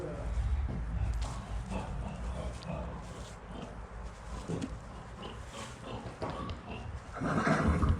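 A seven-month-old draft horse foal whinnies and snorts nearby over a constant farmyard rumble in Ukraine, with faint voices in the background.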